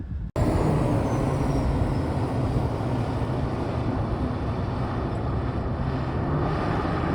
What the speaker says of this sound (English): The engine is running right now. It sounds fantastic.